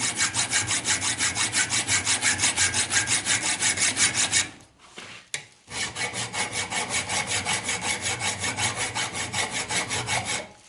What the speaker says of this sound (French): je vais limer tout ça pour faire un plat